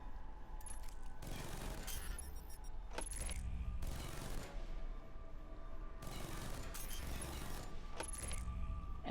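Gunfire in the stealth action RPG Alpha Protocol, shots fired at a wall: several faint bursts of rapid clattering shots separated by short pauses, with metallic mechanical clicks between them.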